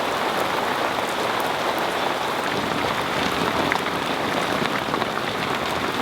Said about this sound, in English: now there's a thunderstorm passing overhead. Torrential rain